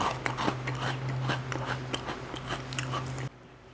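Close, crisp crunching from repeated bites and chewing of a McDonald's french fry, a steady run of sharp snaps with a low hum underneath, then it stops abruptly.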